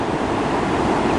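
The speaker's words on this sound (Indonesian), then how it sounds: "suara ombak ini masih kedengaran ya" Steady roar of ocean surf with wind noise, continuous and loud, with no voices.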